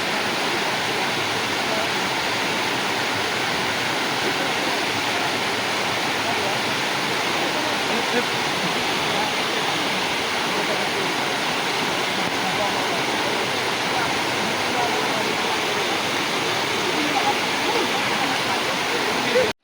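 River water rushes loudly and continuously while people wade across the Alu Krung Peto river deep in forest, a dense unbroken roar from start to finish.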